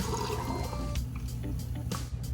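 Peroxide soaking water for coral frags being dumped out of a container, a close, continuous gush and splash of pouring liquid with a few sharper splashes.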